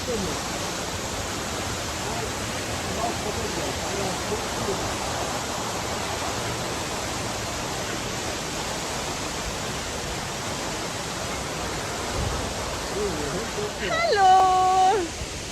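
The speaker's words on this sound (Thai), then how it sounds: "น้ำตกค่ะ" Steinsdalfossen waterfall in Norheimsund, Norway, a steady broadband roar of falling water close by throughout, with a voice speaking briefly near the end.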